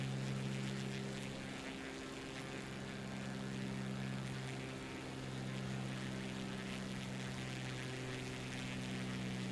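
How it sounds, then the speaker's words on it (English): Propeller aircraft doing a low flyby over Chicago in Microsoft Flight Simulator 2024, a loud continuous droning engine hum with steady tonal buzz, swelling slightly midway. "Do a little flyby."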